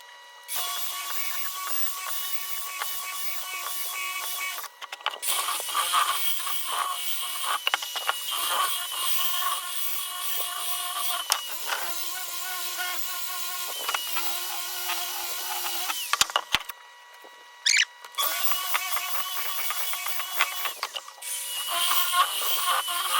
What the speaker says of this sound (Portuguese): com a politriz, usando essa lixa de velcro no grão 120